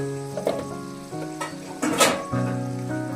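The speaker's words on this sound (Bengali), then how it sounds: "দিয়ে এটাকে ভালো করে নাড়াতে হবে। যতক্ষণ না মশলাটা কষানো হচ্ছে" Turmeric and chili powder fry in a pan for Bengali-style chili chicken, a close, dense sizzle with a few stirring scrapes, heard with no speech.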